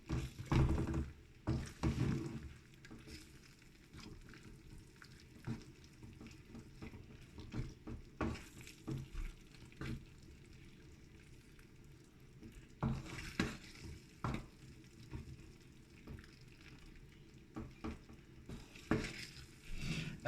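Cream cooking in a hot pan on a hot plate, a faint steady sizzle broken by clinks and scrapes of a utensil stirring against the pan, with bursts of stirring noise at intervals.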